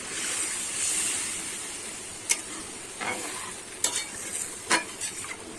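Rohu fish curry sizzling in hot oil with spices as water goes in, a steady hiss with sharp bursts and spatters, close and loud, no voices.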